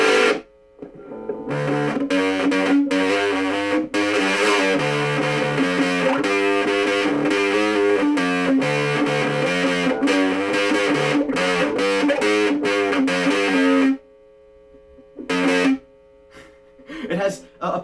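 Heavy overdriven electric guitar through a Donner 5W battery-powered portable mini amp, distorted chords strummed loudly and continuously, then stopping abruptly into a few scattered bursts.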